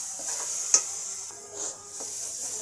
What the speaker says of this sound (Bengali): ডাল মশলাটা ভালো কষা হচ্ছে